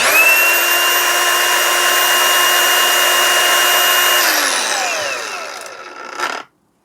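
A DCA ADSM06-125 cordless angle grinder spins at a steady high whine for about four seconds, then winds down quickly as its electric brake stops the disc, close and loud with no talking.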